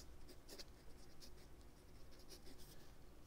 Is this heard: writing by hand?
yes